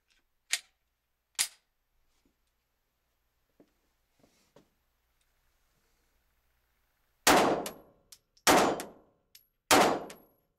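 Pistol shots from a Glock 26 at a shooting range, several sharp loud cracks spaced a second or so apart, with two earlier distant shots and faint clicks and clinks between them.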